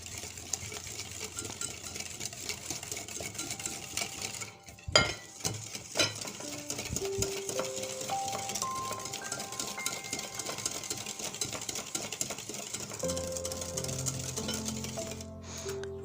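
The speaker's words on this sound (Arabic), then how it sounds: "وغادي نخلطوا كل شيء" Ingredients for a cake made without oil, including strawberry flavouring, being stirred together in a bowl, with steady scraping and mixing strokes plus occasional clinks against the bowl, under a continuous background of soft music.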